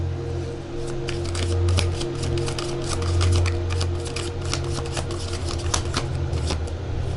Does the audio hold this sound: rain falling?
no